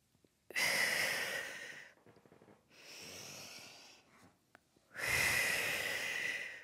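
Heavy breathing during a Pilates plank exercise: three long forceful exhalations close to the microphone, separated by quieter pauses and a soft intake, with no talking.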